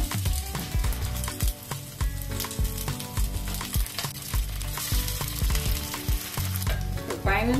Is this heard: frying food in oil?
yes